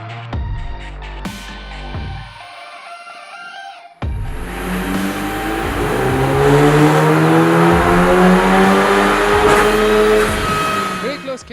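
Car revving hard on a dyno during a drag event power run, a loud engine climbing through repeated rising sweeps after a brief quieter start, sustained and close, with voices faintly underneath.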